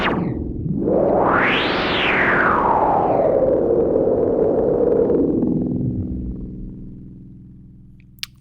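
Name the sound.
Compusynth synthesizer sound patched through reverb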